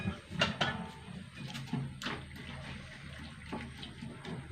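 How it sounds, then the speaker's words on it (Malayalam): Water splashes and trickles in short bursts, close by, with clinks and small knocks of a pan between pours. "പാകത്തിന് വെള്ളം ഒഴിക്കണം"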